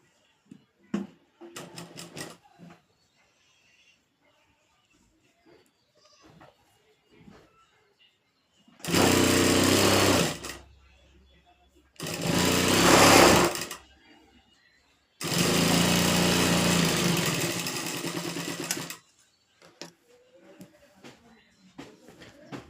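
An electric sewing machine stitches a full-sleeve nighty in three loud bursts of rapid whirring, each a few seconds long, separated by quiet handling of fabric and faint talk.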